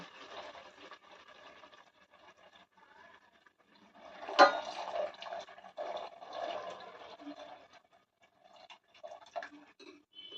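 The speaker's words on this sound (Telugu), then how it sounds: "అలసందలు ఉడకగా వచ్చిన నీళ్ళని ఈ రసంలోకి పోసేస్తున్నాను" Cooking water from boiled cowpeas is poured into a pot of rasam, a quiet running, splashing pour with one sharper splash partway through, heard alone without talk.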